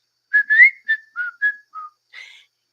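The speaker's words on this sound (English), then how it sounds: "you're whistling" A person whistles a short run of quick, clear notes, six or seven brief chirps in a rising and falling pattern, close and alone in quiet.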